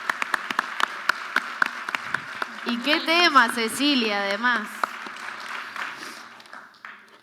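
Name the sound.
audience applause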